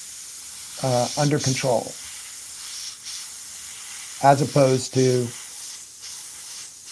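A steady airbrush hiss of paint spraying runs continuously beneath two short bursts of someone talking, a soft, even airy sound in a painting session.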